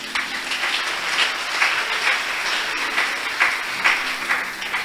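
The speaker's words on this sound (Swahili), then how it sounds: "Kama unabarikiwa piga makofi." A church congregation applauding together, a continuous close wash of many hands clapping with rhythmic swells, no voices over it.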